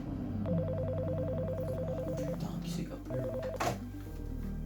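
A telephone rings in a police station sketch, with a repeated warbling electronic tone in two bursts under a steady background hum, close and clear, while people talk over it.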